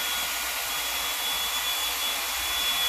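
A Revlon One-Step Volumizing Hair Dryer blows hot air with a constant, loud, close whooshing roar and a faint high whine, unbroken throughout.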